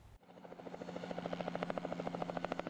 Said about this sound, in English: This rescue helicopter isn't like your ordinary air ambulance service